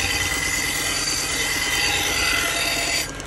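A knife from a set of Shun kitchen knives is honed on a felt belt, giving a steady, continuous rasping hiss for about three seconds before it eases off.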